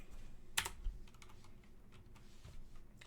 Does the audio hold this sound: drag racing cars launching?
no